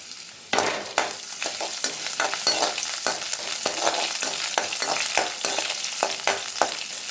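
Garlic and ginger frying in hot oil in a kadai, a steady close sizzle with repeated scraping stir strokes throughout.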